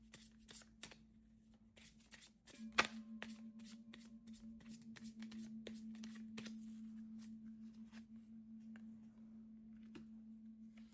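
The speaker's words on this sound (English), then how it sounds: "So I'm going to pull some additional cards here." Archangel Michael oracle cards shuffled by hand, quick crisp riffling clicks in bursts, close and quiet over a steady low hum.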